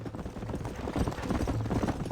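Horse hooves clip-clop in a steady rhythm during riding in the video game Red Dead Redemption, close and continuous with a low background hum.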